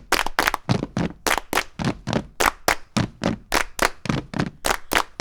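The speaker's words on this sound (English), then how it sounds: "if you listen to all these claps and stomps" Rhythmic claps and foot stomps in a music recording, sharp percussive hits landing in a loose repeating pattern, loud and close, with no other sounds between the beats.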